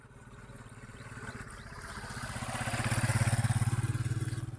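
A trike motorcycle engine putters along a lahar road with a steady rhythmic chug that builds in loudness, accompanied by faint clatter from the rough surface.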